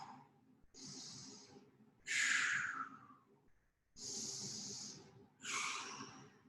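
Heavy, audible breaths during a plank exercise: slow, loud inhales and exhales with airy hiss, about four breaths close to the microphone.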